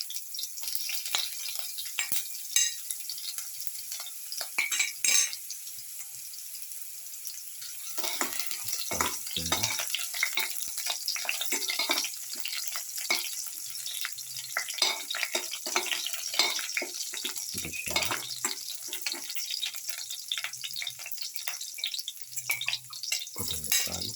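Ginger and garlic sizzle in a hot pan as they are stirred together, a continuous frying hiss with soft scraping strokes and brief clinks of the utensil, close and fairly quiet.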